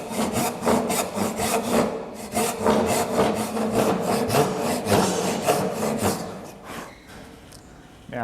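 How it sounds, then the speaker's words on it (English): A hand saw cuts a wooden tenon for a split-top Roubo workbench in close, rhythmic back-and-forth strokes, each rasping pass evenly spaced, easing off and quieting near the end. "we start to angle the saw blade to match the angle of our tenon"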